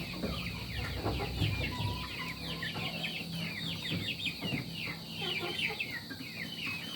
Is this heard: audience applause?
no